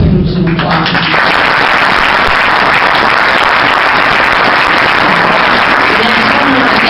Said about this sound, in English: I want everybody to give him some applause